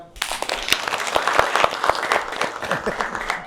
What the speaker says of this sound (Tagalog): 3, 2, 1, palakpak muna.